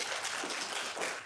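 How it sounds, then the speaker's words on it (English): Lecture hall audience applauding for a student volunteer during an algorithms lecture on linked lists: a dense, steady wash of many hands clapping, fairly loud and sustained throughout. "can we have a round of applause for Chen?"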